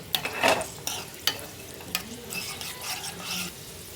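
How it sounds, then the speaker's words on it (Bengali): Cashews and raisins frying in a spoonful of ghee, a soft continuous sizzle with intermittent scrapes and taps as a utensil stirs them in the pan. "এতে দিয়ে দিচ্ছি আমি 1 চামচ ঘি। এখানে দিয়ে দিচ্ছি 10-12টা কাজু আর 10-15টার মতো কিশমিশ। একটু ভেজে নিচ্ছি।"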